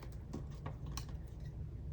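Scissors snip through a paper planner checklist in a few quick, quiet, close cuts with soft clicks.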